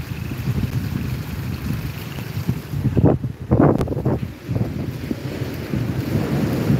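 Big storm-surge waves and strong wind lash a seaside boulevard in Bicol, a constant rough wind roar buffeting the microphone, with heavy surging crashes swelling up near the middle.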